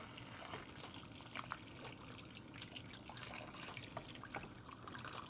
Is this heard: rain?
no